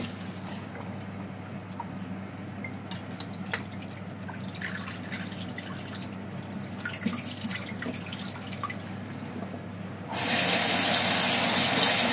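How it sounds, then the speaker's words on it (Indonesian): Cut eggplant pieces are rinsed in water in a sink to wash out the dark sap, with soft splashing and drips close by before a tap suddenly opens into a loud, steady gush near the end. "ini getahnya ya jadi hitam tuh kita cuci sampai bersih sampai airnya bening ya tiga kali pun udah cukup"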